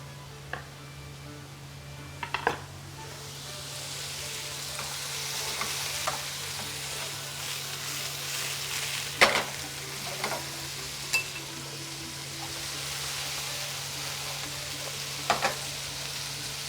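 Food frying in a pan for ayلazan, a Armenian vegetable stew, sizzling steadily while a utensil stirs it, with occasional sharp clacks of the spoon against the pan and a low steady hum underneath.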